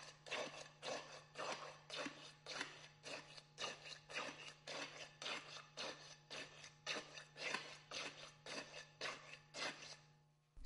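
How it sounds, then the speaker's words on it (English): Steel tamping rod striking fresh concrete in a metal air content bowl, a steady run of about two dozen evenly spaced dull thuds and scrapes, close and fairly quiet, with a faint steady hum underneath. "Rod the layer 25 times. The rod should penetrate through the second layer and into the first layer about 1 inch."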